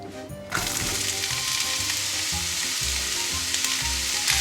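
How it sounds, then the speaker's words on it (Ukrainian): Chopped onion hits hot oil in a heated pan, bursting into a loud, dense sizzle that holds steady and close for several seconds after a brief quiet start. "На розігріту пательну з олійкою висипаємо цибульку"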